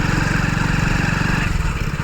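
A motorbike creeps slowly along a badly broken village road, its engine loud and close with a rapid, throbbing putter that holds steady for a couple of seconds, no talking over it.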